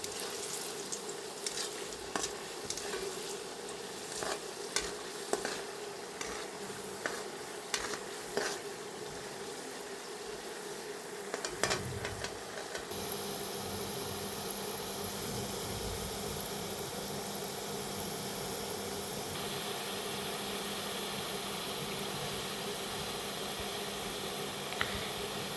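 Small nimki pastries frying in hot oil for a sweet dish, a steady close sizzle with scattered crackles and pops, louder and busier in the first half and settling into an even hiss, with no talk.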